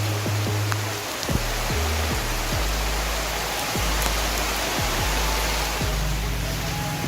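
Heavy rain pours down steadily at a lake at Situ Pengasinan in Sawangan, a dense, even hiss filling the scene throughout, with occasional low thumps and faint traces of a voice beneath.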